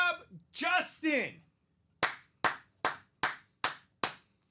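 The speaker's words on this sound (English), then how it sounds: "Let's give him a big round of applause for a first timer here in the break room." Six sharp hand claps ring out in a steady, evenly spaced rhythm, applause for a first-timer in an office break room, following a brief stretch of nearby talking.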